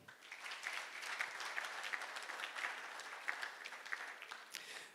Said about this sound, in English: One more clap for them.